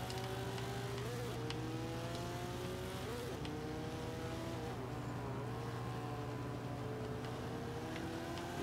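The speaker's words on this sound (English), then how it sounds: "Wheel spin there." A Mitsubishi EVO VI racing in Forza Motorsport 5 with a B-class grip build spins its wheels, engine droning and revving with pitch swells and faint tire squeal, steady and moderately quiet, with no talking.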